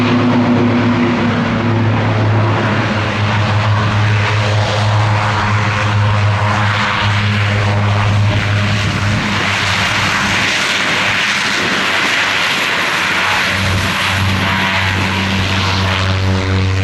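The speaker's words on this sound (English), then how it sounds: "Display by what I think is one of the most entertaining aircraft on the show circuit, with the OV-10B Bronco." A North American OV-10B Bronco twin-propeller aircraft flies a display at an air show, its steady loud propeller drone filling the whole stretch with a slowly shifting pitch as it passes.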